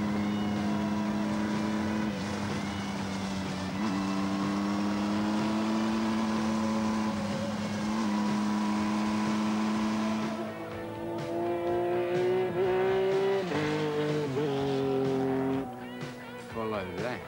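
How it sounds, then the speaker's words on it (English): Heavy Kawasaki Z1300 motorcycle engine droning loudly and steadily through a wheelie stunt, its pitch rising and falling with the throttle, with a voice talking over it. "It's really difficult to wheelie a bike that heavy."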